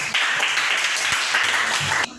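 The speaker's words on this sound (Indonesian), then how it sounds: "Ya, tepuk tangan dulu." Students clap in a classroom after a group presentation, a loud close burst of many hands clapping steadily for about two seconds before it cuts off abruptly.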